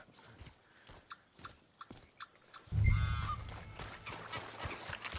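Horse hooves clip-clopping in Red Dead Redemption 2, light, evenly spaced steps that swell into a louder, heavier burst of movement partway through.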